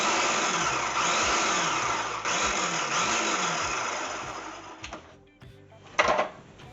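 Peppers and tomatoes being ground in a food processor for salsa, a loud whirring motor drone that runs steadily, then drops and stutters with short bursts near the end.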